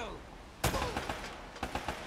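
Gunfire in Uncharted: Drake's Fortune, a sharp burst of rapid shots followed by a few scattered reports, fairly close, with a voice speaking underneath.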